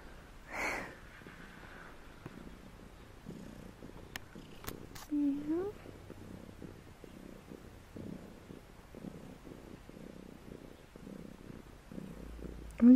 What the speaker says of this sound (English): Are you a happy cat?